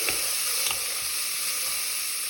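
Onion, garlic and chicken sizzling in a hot pan, a steady close frying hiss with faint stirring clicks and no talk.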